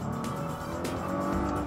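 A Nissan GT-R downshifting quickly with a sharp throttle blip, a brief engine flare and mechanical whine from inside the car, short and moderately loud with no one talking over it.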